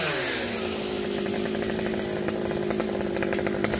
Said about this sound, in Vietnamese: Cái này là cưa thành củi luôn.